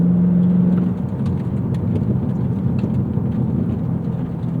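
A 2024 Cadillac CT5-V Blackwing engine rumbles steadily and loudly from up close, a continuous low drone with a brief sustained tone at the start and no talk over it.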